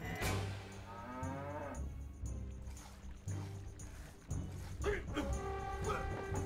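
Cattle mooing in the video game Stronghold: Definitive Edition, a few drawn-out lowing calls heard over steady game background sounds, moderately loud and close.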